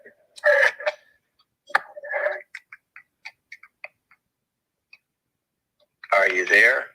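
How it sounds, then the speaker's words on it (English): Quick clicks of typing on a computer keyboard tap out in a brief, irregular run between stretches of nearby talking, fairly close but softer than the voices. "Are you typing or something? You're like making all this noise now."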